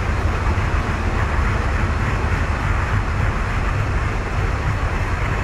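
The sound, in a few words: freight train accelerating in Train Fever video game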